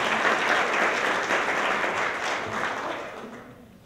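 An awards-ceremony audience applauds community service volunteers, a dense, steady roar of many hands that holds strong before tapering off toward the end.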